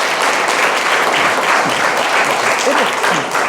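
Students at a school session clap together in a dense burst of applause that carries loud and steady throughout, with a voice briefly audible underneath.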